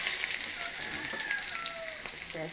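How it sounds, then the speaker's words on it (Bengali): Chopped onion and green chilli frying in a pan for an aubergine curry, giving a steady close sizzle and crackle with faint stirring scrapes throughout, and no voices. "এগুলো প্রথমে নেড়ে চেড়ে একটু লাল লাল করে ভেজে নেব।"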